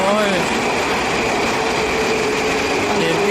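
A metro train in an ornate underground station, a continuous rumbling roar with a high electric whine running through it, steady and loud, with faint voices in the background.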